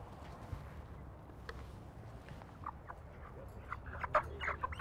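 A chicken held by its legs just before ritual Islamic slaughter gives faint, scattered clucks that grow a little more frequent toward the end, over low background rumble.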